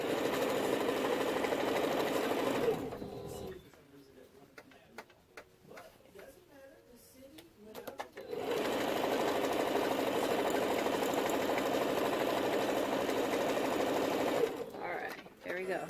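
A sewing machine stitches quilt squares with a quarter-inch seam in a steady, loud, continuous whir, briefly stopping for a few seconds of quieter clicking and handling before running again, close by.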